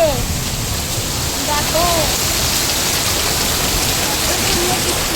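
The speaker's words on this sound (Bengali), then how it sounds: "খুব বৃষ্টি হচ্ছে, খুব জোরে বাজ পড়ছে।" Heavy rain pours in a steady, dense roar that fills the whole clip, with a voice speaking briefly over it.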